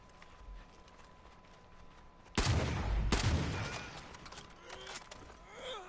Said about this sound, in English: So much reloading on this gun, but it fires so quick